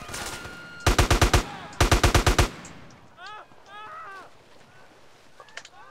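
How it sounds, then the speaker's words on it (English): Gunfire in GTA San Andreas: two loud, close bursts of rapid automatic shots, each about six rounds in quick rhythm, followed by quieter game sounds and brief tones. "Who's shooting at me?"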